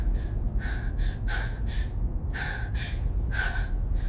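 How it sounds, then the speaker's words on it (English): Ragged, heavy breathing on a starship bridge after a battle, a series of close, rasping breaths and gasps in uneven rhythm, separated by short pauses, with no talking. "There was only the sound of ragged breathing"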